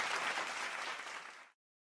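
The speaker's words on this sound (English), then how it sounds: "Did the clapping show up?" A canned clapping sound effect played over a live stream: a quiet, steady burst of applause lasting about one and a half seconds before cutting off abruptly into silence.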